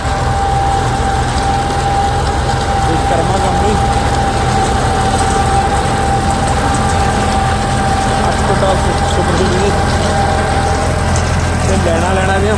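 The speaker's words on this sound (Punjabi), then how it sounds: "ਸਫਾਈ ਤੇ ਟਰੈਕਟਰ ਚੱਲ ਰਿਹਾ" A New Holland 3630 Special Edition tractor engine runs at a steady idle, a loud continuous low rumble with an even drone and no pauses.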